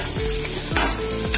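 Loud, close sizzling of chopped green chilli and ginger frying in hot oil, a constant crackling hiss with a few stirring scrapes and no voices.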